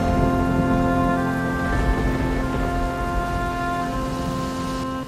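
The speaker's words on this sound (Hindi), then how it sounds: "लेकिन एक दिन भयानक आंधी के साथ ऐसी बारिश हुई" Heavy rain lashes down with a fierce windstorm in an animated story about birds in a forest, a dense, steady roar of downpour beneath a sustained tonal music bed, loud throughout and fading slightly toward the end.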